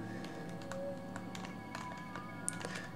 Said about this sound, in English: my typing is horrible